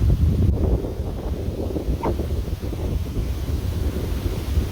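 Wind blows along a lakeshore, gusting against the microphone as a steady low rumble with a brief rustle partway through.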